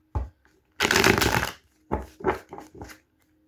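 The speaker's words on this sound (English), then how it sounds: "Let me shuffle this one more time." Tarot cards shuffled by hand: one quick riffle burst followed by several short, separate flicks and taps, close and fairly quiet, with no voices.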